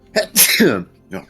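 A loud, close sneeze in two bursts, a quick intake then a sharp explosive release, at a tabletop role-playing game session, followed by a brief spoken word.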